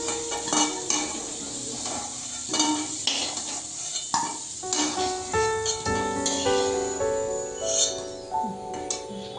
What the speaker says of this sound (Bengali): তেলটাতে গরম হয়ে গেছে তো আলুগুলো আমি ভেজে নিলাম